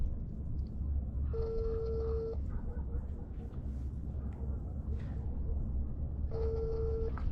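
Telephone call being placed before reaching a garage seller: two long steady ringback tones a few seconds apart over constant background noise, no voices.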